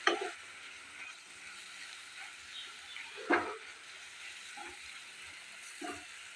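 Ground spices, including coriander powder, fry in a pan over a medium flame, giving a soft, steady sizzle with a few louder scraping stirs, faint and close with no talk.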